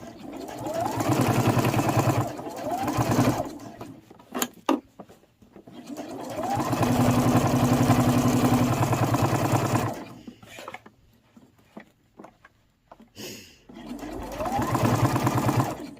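A sewing machine stitches a sling bag strap in several loud, steady whirring runs of rapid stitching, separated by pauses with handling clicks and quiet stretches.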